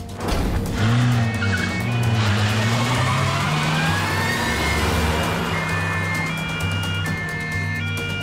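A car races backward with tires squealing in long wavering screeches over a loud revving engine, dramatic and close, with a siren-like wail and soundtrack blended in.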